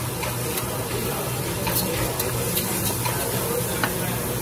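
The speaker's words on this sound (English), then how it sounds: "I just stir it." Risotto rice being stirred in a pot beside boiling stock makes a soft, steady scraping and faint crackle, continuous and close under a low background hum.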